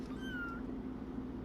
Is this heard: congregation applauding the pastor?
no